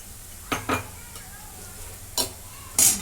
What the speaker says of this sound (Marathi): त्याच्यामध्ये आलू लसूणची पेस्ट टाकून घेते